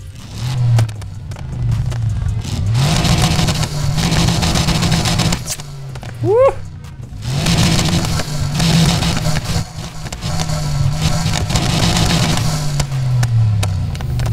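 Car engine revving in the racing game Need for Speed Heat, a loud continuous drone with several throttle swells and a sharp rising rev burst midway, running steadily throughout.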